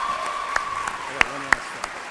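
Applause for a teacher at a school graduation, a few scattered, separate claps ringing out amid a thin hum and a faint tone, sparse rather than a full crowd.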